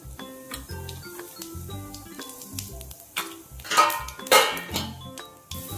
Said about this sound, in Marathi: जिऱ्या मोहरीची फोडणी द्यायची.